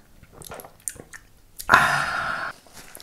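Close, wet chewing and mouth noises during a timed food-eating challenge, with soft smacks and bites followed by a sustained louder burst near the end.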